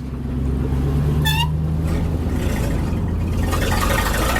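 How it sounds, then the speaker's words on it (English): An old American LaFrance fire truck runs loud and close, engine droning steadily while the gears are shifted without the clutch, with a brief whine partway through and rising road noise at the end. "I'm shifting without using the clutch"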